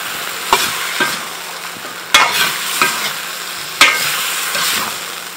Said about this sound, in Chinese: 把料炒香。